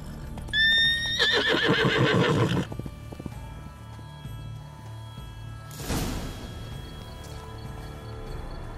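Roach the horse in The Witcher 3 gives a loud, close whinny with hoof clip-clop over the first few seconds. A fainter swish and further movement follow, with no one speaking.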